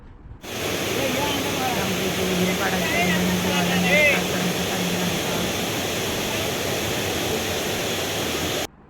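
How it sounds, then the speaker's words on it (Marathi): Steady broadband rush of water pouring over a village dam (bandhara) at dusk, a continuous loud wash throughout with a faint low hum and a few brief bird-like chirps on top. "शांत वातावरण आणि पाण्याचा आवाज"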